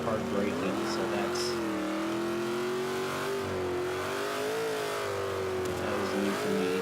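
A Jeep SRT8 engine in Forza 5 revs and accelerates steadily, a loud, close droning note that rises and falls through gear changes, with someone talking over it.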